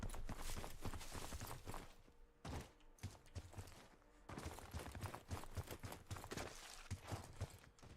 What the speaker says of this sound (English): that's just my echo of my footsteps